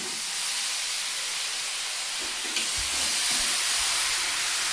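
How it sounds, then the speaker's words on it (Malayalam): A pot of cooked jackfruit with mustard seeds, curry leaves and chutney gives a steady, moderately quiet hiss, with a few soft low bubbling thumps in the second half. "ചക്കയും നേരത്തെ ഇട്ട കടുക്, വേപ്പില, ചമ്മന്തി എല്ലാം കൂടി മിക്സായി ഗുളുഗുളൂന്ന് ആയിക്കൊണ്ടിരിക്കുകയാണ്"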